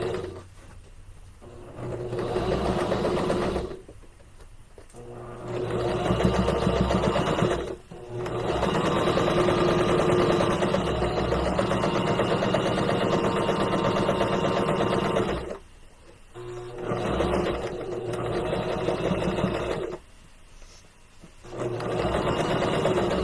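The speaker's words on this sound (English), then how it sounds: "I'm going to stitch all the way around" A sewing machine stitches the seam of a small fabric gift bag in long steady runs of rapid mechanical whirring, close and loud, stopping briefly several times between bursts.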